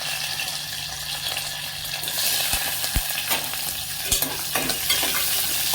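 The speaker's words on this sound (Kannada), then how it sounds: "ಒಗ್ಗರಣೆ ಮಾಡ್ತಾರೆ." Tempering of dried red chillies, finely chopped onion and curry leaves in hot oil sizzles steadily, with a few sharp clicks of a spoon stirring the pan, close and without talk.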